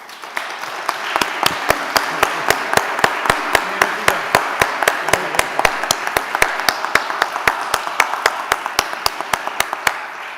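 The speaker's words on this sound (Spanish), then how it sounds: "les voy a pedir a todos un fuerte aplauso para él." A congress audience at a European heritage conference applauds, with one loud, very regular clap standing out in steady rhythm above a softer wash of many hands, holding at a constant level throughout.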